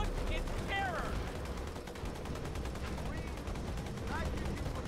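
Turret gunfire in Halo 2 Anniversary, a fairly faint stream of rapid shots under game ambience, with brief chirping effects scattered throughout.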